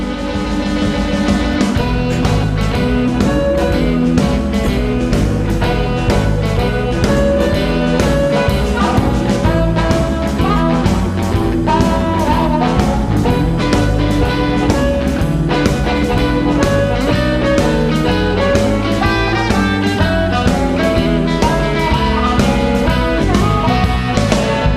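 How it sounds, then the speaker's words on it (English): Live band recording played back from a PowerBook: continuous full-band music with layered electric guitars, bass and drums at steady loudness throughout, no talking over it. "where you can go get a band, you can hook up the guitars, you can get a microphone, and it can sound like this"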